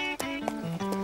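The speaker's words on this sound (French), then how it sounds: "J'adore te regarder galoper." Cartoon horse sounds from an animated horse show, a high whinnying neigh with a few sharp clip-clop accents over roughly a second, close and clear.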